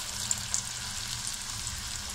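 Chakli, a spiral Diwali snack made from bhajani flour, frying in hot oil over a low flame, giving a soft, steady, close sizzle with a couple of faint pops near the start.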